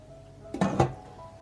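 A lid set onto a soup pot, a couple of quick close clanks of metal landing, alone over faint room hum.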